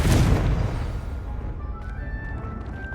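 A Confringo fire spell explodes in Hogwarts Legacy, a loud booming blast at the start that rolls off into a rumbling decay with faint magical tones ringing afterward.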